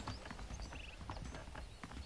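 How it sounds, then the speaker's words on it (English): Saddled horses trot in the Western video game Red Dead Redemption, quick repeated hoof clip-clops on the ground over a low background, with faint jingling tack. "The horses are saddled up over here."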